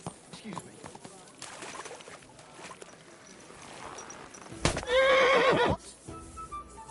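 A horse in the medieval video game Kingdom Come: Deliverance II gives one loud, close whinny lasting about a second, with clopping hooves and game characters talking around it.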